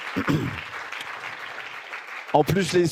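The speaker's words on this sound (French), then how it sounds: "Vous pouvez encore les applaudir" Audience applause at an awards ceremony, a steady wash of clapping under a host's voice that speaks briefly at the start and again near the end.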